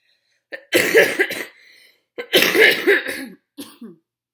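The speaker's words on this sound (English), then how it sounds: "my cough is very like productive" A person with cystic fibrosis gives two wet, productive coughing fits, each a rapid run of chesty, phlegmy hacks, close and loud, followed by a short throat-clearing catch and silence between bouts.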